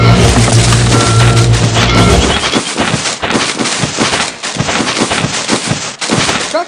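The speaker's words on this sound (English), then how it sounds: "Now tap the red blinking knob to raise the truck's tank and the" A garbage truck in a children's video game raises its tank and dumps trash, opening with a low mechanical hum before a rapid, clattering cascade of crashing and rattling debris.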